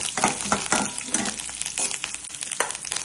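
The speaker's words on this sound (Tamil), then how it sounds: "கடலைப்பருப்பு நல்லா பொரிஞ்சிச்சு. கருவேப்பிலை போட்டுட்டு" Chana dal and curry leaves frying in hot oil, crackling and sizzling loudly and close, with rapid stirring scrapes.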